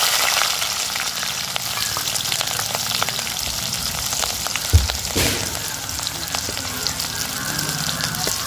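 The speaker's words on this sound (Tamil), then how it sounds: "நாங்கள் இப்போ வெங்காயத்தையும் பச்சை மிளகாயும் போடுவோம்" Loud, steady sizzling of onions and green chilies frying in hot oil, with occasional crackles and a brief thump midway; no voices.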